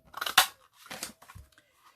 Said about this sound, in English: I could use my leaf punch to cut out some leaves